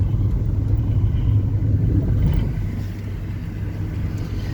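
A car drives along a patched, bumpy road at speed, with a continuous loud low rumble of tires and engine from inside the cabin that swells slightly over uneven stretches.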